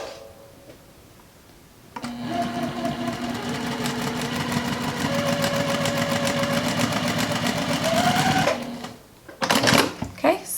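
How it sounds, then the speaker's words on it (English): Sewing machine stitching quilt fabric straight along a drawn line with a very small stitch length, a fast, steady rattling whir running for several seconds after a quiet start, then stopping, followed by a few handling clatters. "I would use a very small stitch length and just sew right straight down that line."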